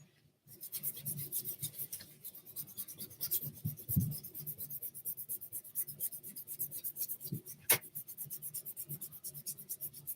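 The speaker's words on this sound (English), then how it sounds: "Now I'm going to erase the pencil lines." An eraser rubs out pencil lines on a drawing, close and rhythmic back-and-forth scrubbing strokes on paper, with brief pauses and a couple of sharper taps.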